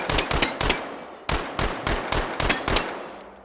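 SMG fire in the VR shooter H3VR: sharp gunshots in quick bursts of two or three, separated by brief pauses, loud and close with nothing else heard.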